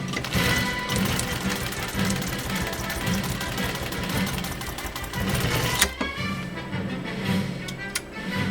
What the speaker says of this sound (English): 6 layers of commercial grade vinyl on PFAFF or PFAFF 130 machine number 2.